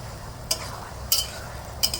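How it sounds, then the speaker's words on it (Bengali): Ginger-garlic paste and onions are stirred in hot oil in a pan, a soft frying hiss broken by three sharp scraping clinks of a spoon against the pan at regular intervals. "দিয়ে ভালো করে এই গরম তেলে নেড়ে নেবে।"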